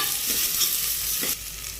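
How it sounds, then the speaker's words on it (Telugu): Onions sizzle and fry in hot oil in a pan while dal is cooked, a steady close hiss with a couple of brief stirring scrapes and no talk. "ఆనియన్స్ కొన్ని వేసుకున్న తర్వాత అవి కొంచెం వేపుకోవాలి."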